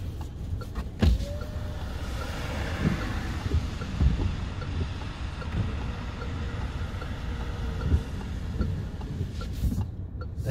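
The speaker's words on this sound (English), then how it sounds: "Those windows felt really slow when they were winding up, like they were braking, you know, when they're kind of sticking." Power windows on a 2020 Peugeot 208 Allure Premium PureTech winding up inside the car, a slow, steady electric motor whine running through most of the stretch with faint cabin clicks and rumble, no talking.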